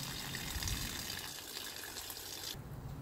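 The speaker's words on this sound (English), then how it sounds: "so I ran water through the line." Water gushes steadily through a motorhome's fresh water line at a full-hookup campsite, a constant close hiss and splash that cuts off sharply near the end.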